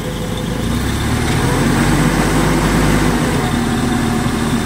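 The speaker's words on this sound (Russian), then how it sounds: "Вот такой вот 4-цилиндровый движок, достаточно мощный" A four-cylinder engine on a Sumitomo FG15 1.5-ton forklift runs at a steady idle, close and continuous, with an even low rumble throughout.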